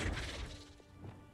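The Flipendo spell impact in Hogwarts Legacy lands as a close, heavy smash at the start, then fades into quieter rumbling debris.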